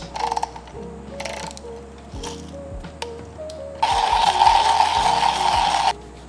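A coffee grinder's adjustment dial clicks through settings to a fine grind, a series of crisp, close mechanical ratchet clicks, some spaced and some in quick runs, with a louder grinding burst near the end.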